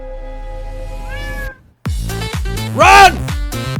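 Loud, close cat meows ring out in a K-pop music video, several rising, wavering cries layered over the song's music, with a brief silent gap before a strong, drawn-out meow near the end.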